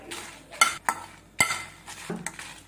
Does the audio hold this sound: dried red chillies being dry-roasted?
yes